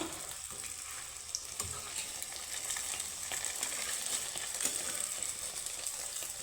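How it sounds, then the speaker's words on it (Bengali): Balls of flour dough frying in hot oil, a steady close sizzle with fine crackling throughout and a few soft clinks of utensils. "এইভাবেই আমি বাকি দুটো আমি ভেজে নিচ্ছি"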